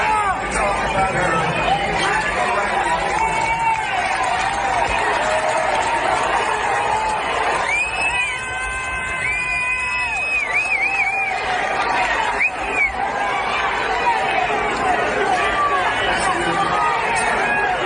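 A crowd murmurs and chatters throughout at a Trump rally in Pennsylvania, a dense, steady hubbub of many voices with a few brief shouts and whistles rising above it.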